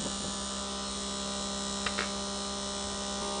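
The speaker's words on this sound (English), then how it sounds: "Alright, so now the motor is running." Small DC motor driven by a simple PWM circuit, a steady electrical hum and whine held at constant pitch throughout, with two faint clicks near the middle.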